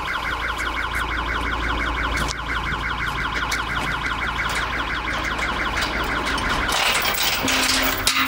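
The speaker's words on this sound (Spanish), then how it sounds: "¿Nos ha saltado la alarma?" Intrusion alarm sounding at a warehouse, a loud, continuous electronic wail with a fast repeating pulse that runs without a break across the whole stretch, over a low steady hum.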